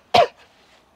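One sharp, loud cough close by, followed by a faint trailing rasp that quickly fades to quiet.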